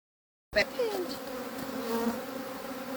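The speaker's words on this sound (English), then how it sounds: "They're not usually this angry, okay? Usually I have very nice bees." A dense, agitated buzz of many angry honey bees swarming close around a hive during a hive split, steady and loud after a brief silence at the start.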